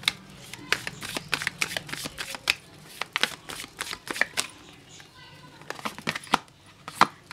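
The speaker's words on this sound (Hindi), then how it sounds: "ओके, कुछ और कार्ड्स लेते हैं व्यूवर्स यहाँ पे।" Tarot cards are shuffled and drawn by hand, close up, making a rapid run of crisp snaps, riffles and papery flicks. The rhythm is uneven, with louder slaps as cards are pulled out.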